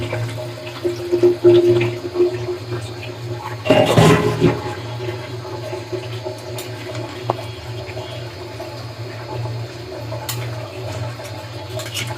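Water pours and gurgles into a pot of beef trotters for nihari in a loud burst near the start, then fades to a quiet hum.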